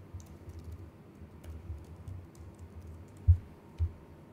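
Keystrokes on a computer keyboard while filling in an online form, soft and fairly near, with a couple of louder thumps toward the end.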